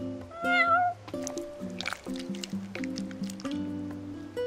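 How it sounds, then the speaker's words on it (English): A cat meows in Final Fantasy XV, its rising cry clear over steady, tonal game music with soft squishy effects and a bit of background chatter. "You're one spoiled cat."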